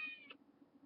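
A five-month-old cat meows once, short and faint, asking for food; a soft steady hum sits underneath.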